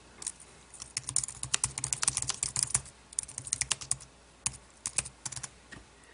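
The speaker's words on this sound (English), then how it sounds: "So now I can start using my iPad with the keyboard." Someone types on a Logitech K760 wireless solar keyboard paired with an iPad, with soft, quick keystroke clicks coming in bursts and short pauses and no talking.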